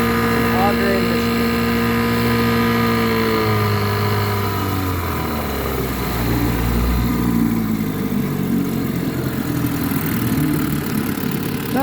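A 1958 Wizard Powermatic 5-1/2 hp outboard motor, built by Oliver Farm Machinery, runs steadily and loud at close range, its pitch dropping from a higher whine to a lower rumble partway through as it settles into a steady drone.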